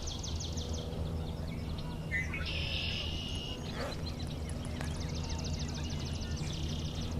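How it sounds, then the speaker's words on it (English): A red-winged blackbird calls outdoors near a swamp, with a buzzy trilled phrase and some thin higher notes set over steady low background hum, moderately distant. "So we have red-winged blackbird."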